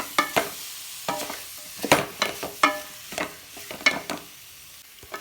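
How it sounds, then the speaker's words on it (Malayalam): A spoon stirs ground pepper and masala powder into beef roast in a pan, giving a series of irregular scraping strokes over a soft, faint sizzle, close and without talk. "ഇതൊന്നും കൂടെ മിക്സ് ചെയ്യാം."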